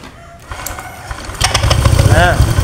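A Honda Vario 125 scooter starts up with a whirring crank that builds into a running engine, close and loud, with a short squeaky chirp near the end.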